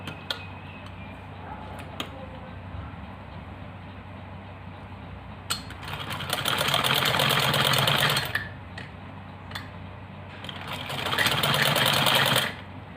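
A sewing machine stitches lace onto a ladies' shirt in two loud, steady bursts of rapid mechanical whirring, separated by quiet handling of fabric and faint clicks.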